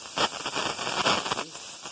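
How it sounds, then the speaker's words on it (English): A pressure cooker cooking beans lets off steam in a steady, moderately loud hiss with short surging puffs, and nobody speaks. "And my pressure cooker is going on, so hear it."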